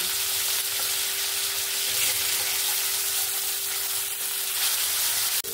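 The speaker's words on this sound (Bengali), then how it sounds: "এরকম লাল লাল করে আমি সবগুলো মাছ ভেজে নেব।" Pieces of fish fry in hot oil in a pan, giving a loud, continuous sizzle and crackle that runs steadily throughout, with a faint constant hum underneath and no voices.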